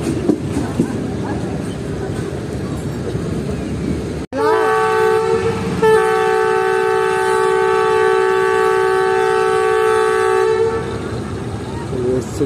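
The Tezgam passenger train in Pakistan, halted before a river bridge while waiting for a signal, gives a loud sustained multi-tone horn blast lasting several seconds after a sharp bang. Low rumble sits before and after.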